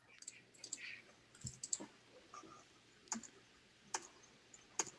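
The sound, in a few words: computer keyboard T key being pressed and released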